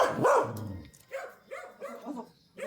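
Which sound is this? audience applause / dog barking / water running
dog barking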